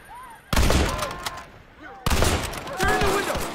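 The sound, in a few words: gunfire in the video game Red Dead Redemption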